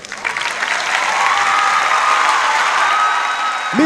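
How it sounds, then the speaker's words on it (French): Audience applause at the Miss District Côte d'Ivoire 2016 pageant final, a loud, dense burst of clapping that swells quickly and holds steady, with faint crowd noise mixed in. "Isabelle, sous vos applaudissements"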